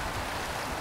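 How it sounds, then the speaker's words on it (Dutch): Small stream flowing through the Ardennes countryside, a steady, even broadband wash of running water with no talk over it. "stroomt een mooi beekje."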